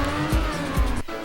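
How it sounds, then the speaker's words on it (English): A car in the racing game Trackmania Nations Forever roars with a loud, continuous engine and tire-squeal texture, with a couple of low thumps and a brief dip near the end, no voices. "the sound is generic revving and crashing noises"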